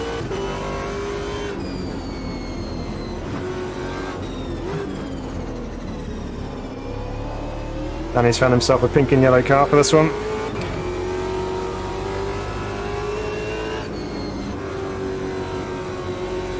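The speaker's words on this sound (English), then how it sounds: "Some things just feel so right about driving a V8 around Bathurst." A V8 race car engine circling Bathurst in the racing game Automobilista 2. It drones steadily with rising and falling revs and a brief burst of sharper revving near the middle, under near-constant commentary.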